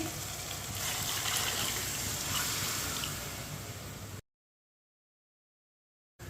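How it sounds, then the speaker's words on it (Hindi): Water poured from glasses into a pot of roasted moong dal, a continuous gushing splash for about four seconds that cuts off abruptly into silence. "2 गिलास पानी डालेंगे।"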